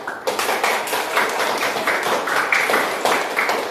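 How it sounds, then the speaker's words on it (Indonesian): A classroom group claps together for group 1, a steady rhythmic burst of hand clapping from many students, close and lively, with no talk. "Tepuk tangan untuk kelompok 1"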